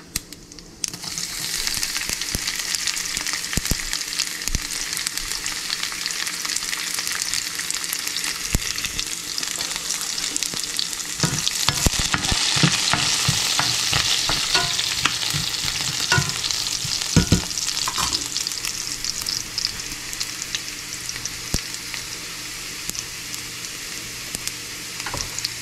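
Chopped garlic and cumin seeds fry in hot oil for a Tamil home-cooked salmon curry. A steady, loud sizzle runs throughout, broken by scattered clicks and scrapes of stirring.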